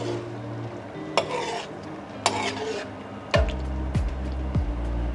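Bolognese sauce goes into a pot for Jamaican-style spaghetti, with a few sharp clanks of a utensil against the pot, wet squelching stirring and a soft simmering sizzle close by.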